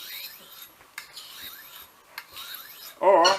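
A knife drawn along a sharpener at a 22-degree angle, giving several rasping, scraping strokes up close, followed by a brief louder, harsher grind at the end.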